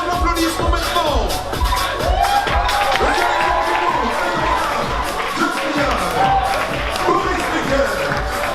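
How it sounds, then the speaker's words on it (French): A crowd at a French Instagram influencer event claps, cheers and whoops for guests coming on stage, loud and continuous with babble and shouts mixed in over a steady pulsing music beat. "Sous vos applaudissements maintenant"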